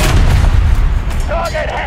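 A tank cannon fires in the War Thunder video game. A single loud, deep boom rolls out and decays, followed by brief tonal in-game alert sounds.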